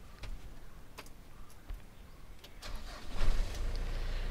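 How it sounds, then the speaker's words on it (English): Mitsubishi Pajero SFX engine starting. Faint clicks and ticks come first, then the starter cranks and the engine catches into a louder steady idle rumble in the last second. "So now it's time to start this Pajero."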